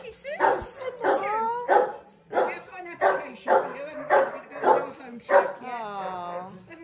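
Abandoned farm dogs barking repeatedly in short bursts with yips and whimpers, close and loud, with a person talking over them.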